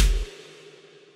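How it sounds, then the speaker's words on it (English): A single kick and snare hit from an electronic music track sounds once, a punchy low thump with a crisp snare crack that decays quickly into a short reverberant tail. "so the kick and the snare, which originally sounded like this"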